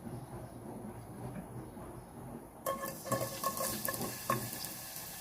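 Onions drop into a hot pan and start sizzling, the crackle jumping up in loudness partway through after a quieter stretch, with light clatter of stirring and no voices.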